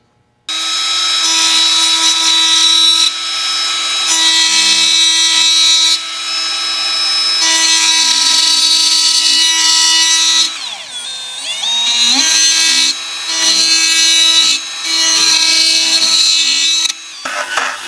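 A power drill bores through the aluminum cap covering the carburetor mixture screw on a John Deere 1025R tractor, whining loudly and steadily in long runs with brief pauses and a bogging, straining stretch partway through.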